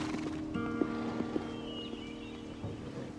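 A horse whinnies in a drawn-out neigh, with a few soft hoof clops and thuds beneath it, at moderate distance over a steady background.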